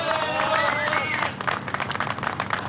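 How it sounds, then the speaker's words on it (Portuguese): Applause and crowd noise greet miners emerging from a rescue shaft, with sustained clapping and cheering under an announcer's voice, thinning out toward the end. "naturalmente os aplausos, a alegria de um país que ainda não dormiu"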